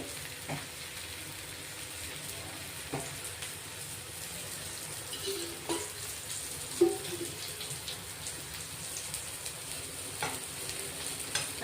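Steady crackling sizzle of food frying in a little oil on a hot griddle over low-to-medium gas, continuous and close, with a few soft clinks of a utensil now and then.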